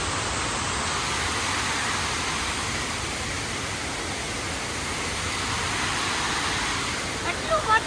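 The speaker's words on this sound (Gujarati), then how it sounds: "મિત્રો મસ્ત મજાનો ધોધ પણ જાય" A waterfall in hilly country during heavy rain gives off a steady, loud broadband roar of rushing water. It stays even throughout, with a few faint knocks near the end.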